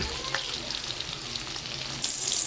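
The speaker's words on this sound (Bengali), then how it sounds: "এবার মাছগুলো একটু কড়া করে ভেজে নেব। এখন গ্যাসের আঁচটাকে আমি হাই করে দেব।" Katla fish pieces frying hard in oil over a high gas flame, a loud, steady, crackling sizzle that continues unbroken with no voices.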